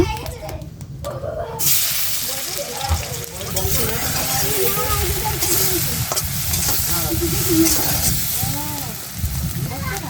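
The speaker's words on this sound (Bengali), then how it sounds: "তেলটা গরম হয়ে গেছে কারণ মাছটি দিয়ে দেবো" Fish frying in hot oil gives a loud, dense, continuous sizzle close by, with voices talking over it throughout.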